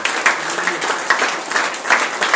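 A church congregation applauding during worship, a steady wash of many hands clapping together that swells in rhythmic surges, fairly close and loud with no clear voices above it.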